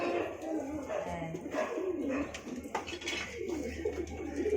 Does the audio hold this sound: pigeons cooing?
yes